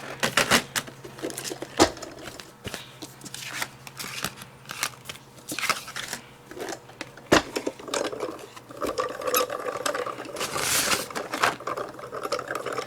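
Diamond Press die cutting machine cranking a card and die through, with irregular clicking, rattling and grinding bursts close by over roughly thirteen seconds, no speech.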